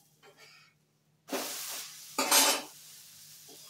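Idli batter utappam on a hot pan, turned over: a quiet scrape, then two loud bursts of hissing sizzle that fade out, with no talking.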